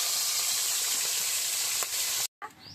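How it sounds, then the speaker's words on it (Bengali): Small fish fry in hot oil with a loud, steady, close hiss that runs unbroken, then drops out briefly and returns softer at the end. "এই মাছটা এখন আমি ভেজে নেব।"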